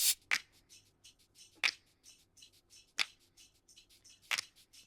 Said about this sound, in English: This is a cabasa.